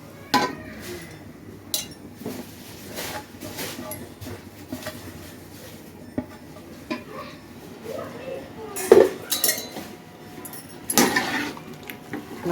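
Vegetables and ground spices are stirred in a cooking pot, with scattered metallic scrapes and clinks of a utensil against the pot while someone speaks over it.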